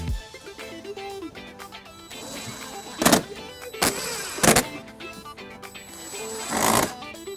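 Screws are driven back in to reattach an underbody panel on a 2017 BMW 530i, giving a few brief loud whirring bursts over quieter clattering and handling noises.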